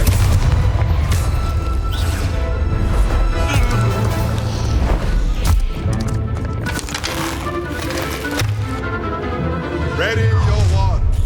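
The Confringo fire spell bursts in a Hogwarts Legacy fight: loud, dense booms and crackling impacts fill the scene nearly without pause, with game voices mixed in.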